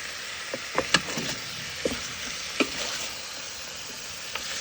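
Meat for a tajine frying in a pan, stirred now and then, with a steady sizzle and a few soft scraping knocks close by.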